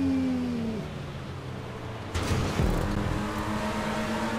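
Race car engine in GTA 5 Online, a steady high revving whine that shifts pitch as the car drives on, with a rougher burst of noise and rumble partway through; no talking.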